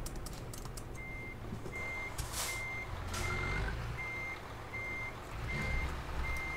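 A truck in a video game reverses to dock onto a trailer, its backup beeper sounding a steady, evenly spaced chirp over a low engine rumble, with a few faint clicks and hisses.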